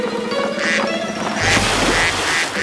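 Cartoon duck quacking at a carnival dunk tank, a few bright nasal quacks over steady fairground background noise, followed by a louder splash-like burst.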